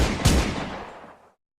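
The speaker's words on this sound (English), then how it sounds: "are those gunshots? Flying straight at my car?" Gunfire aimed at a car during a pursuit sounds as a sharp burst of shots: an initial blast, a second strong crack, then a decaying, echoing rumble that fades out within about a second.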